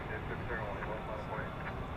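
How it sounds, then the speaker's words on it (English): An American Airlines Boeing 777-200ER taxiing at DFW Airport, a faint steady engine rumble heard from a distance under continuous talk. "is a big old 777 200 ER, and as you can see there, it is turning to go over the bridge to depart from the east side of DFW"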